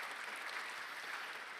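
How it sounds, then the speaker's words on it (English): Sustained applause from an audience at a college event honoring students, a thick, even wash of clapping that holds steady from start to finish. "let's give a round of applause for the students that put in hours of work on the Compel"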